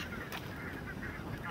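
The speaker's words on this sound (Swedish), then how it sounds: "nu ser jag den där rödhalsade gässen" A flock of red-breasted geese calls with a continuous overlapping chorus of honks at moderate distance, fairly faint.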